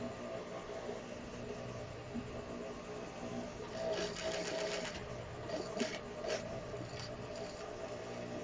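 An industrial sewing machine stitches a jeans waistband with a compensating presser foot, a quiet mechanical whir that rises into short bursts of rapid stitching midway.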